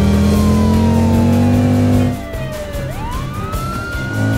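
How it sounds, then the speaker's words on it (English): A cartoon police car's siren wails in a long rising and falling tone over a loud engine drone; the engine cuts back partway through and the siren sweeps upward again, with no talking. "police car has turned on the siren."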